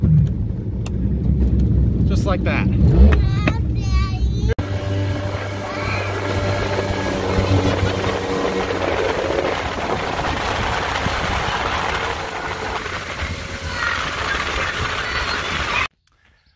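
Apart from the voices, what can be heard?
boat motor running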